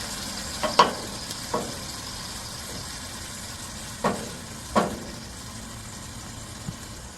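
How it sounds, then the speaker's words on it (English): A pot of tomato stew with greens simmers and softly sizzles as it cooks down, with a few faint clinks and stirring knocks over a low, steady background hiss. "I'm going to let it cook down until it is wilted"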